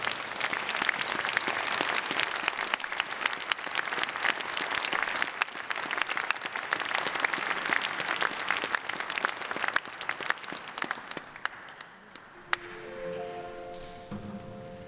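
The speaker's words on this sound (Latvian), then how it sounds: "Aplausi!" A concert audience at a Christmas choir concert gives long, dense applause that fills the hall, then fades near the end as a piano begins playing softly.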